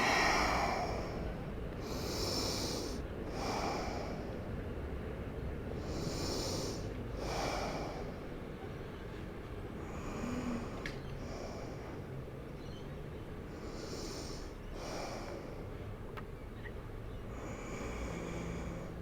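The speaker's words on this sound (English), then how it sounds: "And breathe." Slow, deep yoga breaths repeat at a calm, even pace, each breathy inhale and exhale close and clear, roughly a dozen cycles over a quiet room background.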